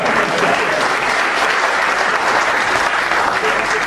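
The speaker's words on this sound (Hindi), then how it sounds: "तालियां वाले मिलकर बजाओ जरा" A live audience at a comedy stage show breaks into steady, dense applause that holds evenly from start to end, loud and close, with no pause.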